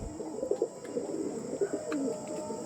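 Pigeons of a fancy jamuni panja type coo softly in a few short, low, throaty bursts, fairly faint against a quiet background with no talking.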